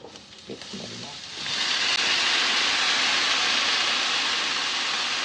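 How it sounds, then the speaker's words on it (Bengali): Sliced zucchini hits a hot frying pan for a squash bhaji, and after a brief quieter moment a loud, broad sizzle swells up and holds steady and close. "এবারে আমি দিয়ে দিচ্ছি এই যে জুকিনিটা"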